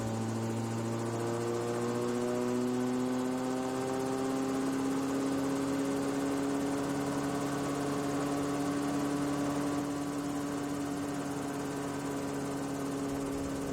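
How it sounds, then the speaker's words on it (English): A RotorWay 162F helicopter engine runs steadily up to operating speed, a loud, continuous droning whine with a slowly rising pitch as the throttle opens, holding close and unbroken throughout with no talk. "With the engine at operating temperatures, open the throttle to bring rotor RPM to 520."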